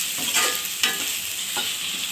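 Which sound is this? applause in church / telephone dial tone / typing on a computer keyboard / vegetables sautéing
vegetables sautéing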